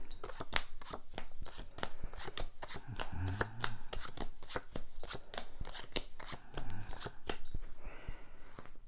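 Playing cards being dealt out for a three-player game of cribbage, a steady run of crisp, close flicks and soft slaps as each card lands, with no talking.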